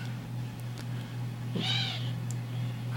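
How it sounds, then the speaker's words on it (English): A cat meows once in the night outdoors, a short tonal call over steady low hum and background noise. "Here comes the cat again"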